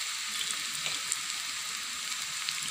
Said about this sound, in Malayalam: ഇതൊന്ന് മൂക്കട്ടെ.